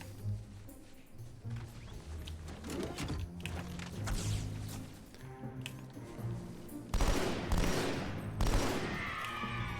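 Gunfire in a Halo 2 firefight on Legendary difficulty, with rapid automatic bursts and scattered shots, explosions and impacts at moderate loudness, continuous throughout.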